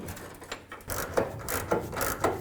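Bolts being threaded by hand into the fuel tank mount of a 1994-2004 Chevy S-10, heard as a series of soft, close ratcheting clicks and metallic scrapes in a steady rhythm with no voices.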